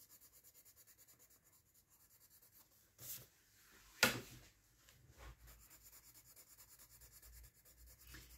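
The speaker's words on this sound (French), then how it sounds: "je repasse un petit peu dessus pour effacer les traces" A marker is rubbed lightly over a colouring page in soft, rhythmic strokes, with a couple of louder scratchy passes near the middle, all quiet and close.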